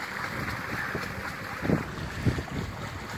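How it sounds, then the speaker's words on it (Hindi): Steady wind rushing outdoors in a rural village on an overcast day, a broad constant roar with occasional gusts buffeting the microphone. "हवा चल रही है"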